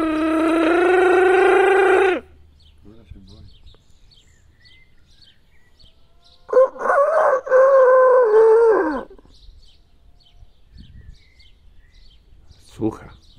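Rooster indoors near a window giving loud crows, one long call at the start and another broken call midway, with voices talking quietly in between.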